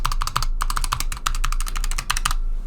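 Rapid, steady typing on a Razer Huntsman Tournament Edition optical mechanical keyboard, heard close to the mic as a dense run of crisp clicky keystrokes with a few short pauses, alone with no talking.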